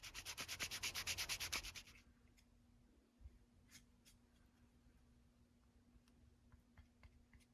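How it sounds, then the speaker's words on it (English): Final hand sanding of cut pine pieces for a dresser's wood mosaic: a fast, loud rhythmic rasp for about two seconds, then the scrubbing stops, leaving faint ticks and light handling noises over a low hum. "took each set from each drawer outside to do the final sanding"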